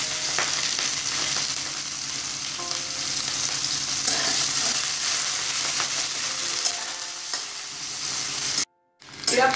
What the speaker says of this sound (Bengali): পেঁয়াজটা আমি একদম লাল করব না, এরকম ভাজা ভাজা করলাম